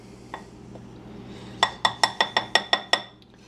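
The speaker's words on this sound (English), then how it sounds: "you try to stir it up a little bit" Utensil stirring flour, salt and baking soda in a bowl for cake, heard as a quick run of about eight close, bright clinks against the bowl, evenly spaced, after a near-silent start.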